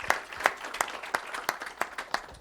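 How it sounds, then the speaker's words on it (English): An audience at a CFA Institute Research Challenge final in Brazil breaks into applause: a run of sharp, evenly spaced claps, close and moderately loud, with no voices over it. "So let's give them a round of applause as well."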